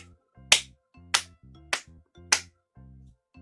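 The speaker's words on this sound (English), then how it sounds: "Obnoxious clapping noises." Four sharp claps spaced about half a second apart, each over a low buzzing, rhythmic music-like drone that continues between them.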